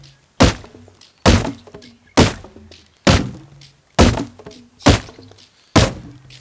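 Seven loud, evenly spaced hatchet chops on wood in the survival game Rust, each a sharp thunk with a brief ringing tail, heard close and alone.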